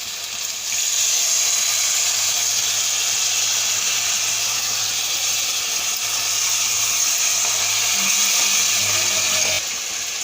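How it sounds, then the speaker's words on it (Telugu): Soaked tamarind juice is poured into a simmering country-chicken egg curry, making a steady, even hiss of liquid and bubbling that lasts about nine seconds before it stops abruptly. "ఇప్పుడు చింతపండు నానబెట్టుకున్నాను కదండి, అది ఆ రసం అనేది ఇందులో పోస్తున్నాను పులుసు."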